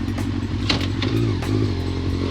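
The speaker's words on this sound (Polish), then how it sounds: "teraz odpalę motocykl, żeby Wam pokazać." A motorcycle engine idles close by with the clutch disengaged, giving a steady, loud low rumble with light mechanical ticking and clatter throughout and no voices over it.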